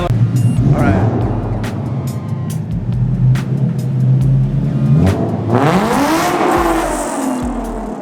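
An Infiniti G35 with newly installed Godspeed Mono SS coilovers idles with a loud, rough drone, then its engine revs hard and climbs sharply, close by and very loud.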